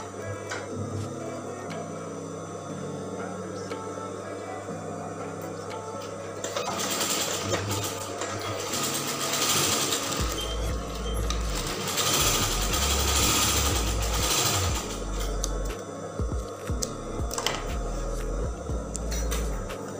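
A sewing machine stitches the bottom hem of a half-circle skirt, its motor whirring in bursts that speed up and slow down, with a low mechanical thrum growing louder partway through, close by.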